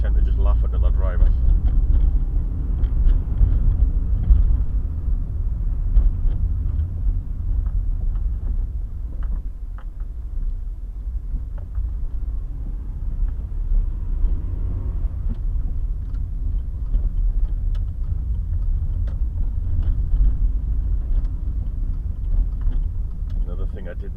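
In-car sound captured by a GT300 dash cam while driving: a steady low engine and road rumble with faint rattles, continuous throughout, no one talking.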